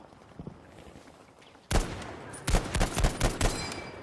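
Rapid M1 Garand rifle fire in a Battlefield V conquest match on the Marita map: a sharp single shot, then a quick burst of five or six loud cracks with echoing tails after a stretch of quiet.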